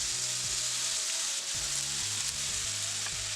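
Beef sears on a hot griddle with a steady, bright sizzle, broken by several low thumps and scrapes of the meat being moved.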